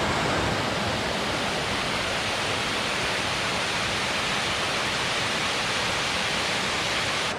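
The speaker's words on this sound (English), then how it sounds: "That's the advantage of a bit of rain. Certainly brings the waterfalls out." A waterfall in the Lake District swollen after rain, a dense, constant rushing roar of falling water, loud and steady throughout with no voices.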